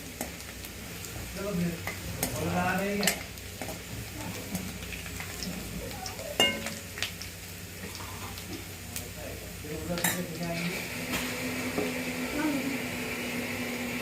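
Garlic fries in a pan for egg biryani, a soft steady sizzle broken by scraping stir strokes, with a person speaking intermittently over the cooking.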